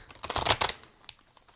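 A thick deck of tarot cards being shuffled by hand, a quick close burst of papery riffling that fades into a few soft taps and rustles.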